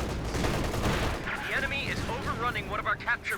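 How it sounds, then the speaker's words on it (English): In the video game Company of Heroes 2, a .50 cal machine gun rattles off rapid bursts amid other battle noise. "This unit's getting suppressed and pinned now by the 50 cal."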